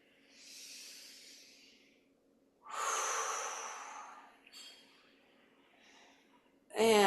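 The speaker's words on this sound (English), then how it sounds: "Inhale, exhale." Slow, deep breaths drawn in and pushed out during a gentle qi gong shoulder-roll exercise, airy hissing inhales and exhales close to the ear, followed by a brief voiced sound at the end.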